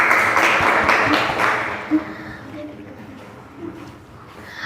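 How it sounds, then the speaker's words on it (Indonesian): A classroom of students claps for a group that has just finished its social studies presentation. The applause is brief and fades within a couple of seconds, leaving quiet room noise with faint voices. "Beri tepuk tangan."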